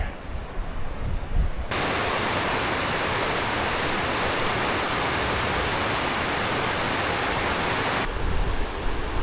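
The river rushes through the Rio Grande Gorge in a dense, steady roar of flowing water, loud and continuous from beginning to end.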